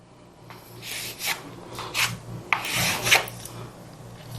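Fabric is being marked for a kurti pattern with short, scratchy rubbing strokes that come in several bursts at close range, with no talk over them.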